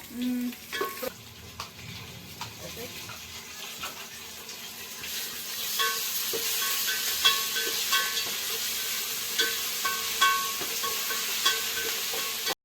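Onion and tomato frying and being stirred in a pan for chicken biryani, a steady sizzle that grows louder midway, with scraping stirs and faint tap water in the background.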